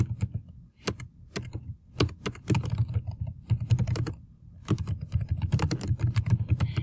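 Close, crisp typing on a computer keyboard while filling in a table: quick irregular bursts of keystrokes with brief pauses between runs, loud and alone without any speech.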